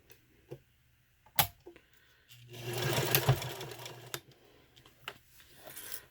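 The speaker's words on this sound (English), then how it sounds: "when you're sewing with vinyl, you want to use a longer stitch" A sewing machine stitches vinyl for a zipper pouch, with a short burst of running stitches in the middle amid scattered clicks and handling sounds, fairly quiet and close.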